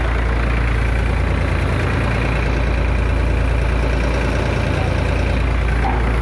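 A tractor-driven KSR groundnut thresher runs at about 1100 rpm with a double pulley, producing a loud, steady, low engine drone and a constant mechanical churn with no pauses.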